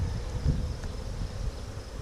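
Honey bees hum in a low, steady, close drone at the hive during an inspection, a continuous buzz with slight swells and no voices.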